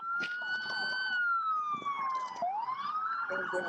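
A police siren wails nearby during a high-speed car chase, its pitch sweeping slowly down then back up, loud and continuous with faint voices underneath.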